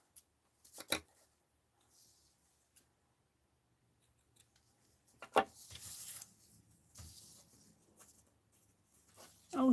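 Scissors snip through the fabric hem of a handmade Scrooge doll, giving a few sharp close cuts with rustling and handling between them, and no talk.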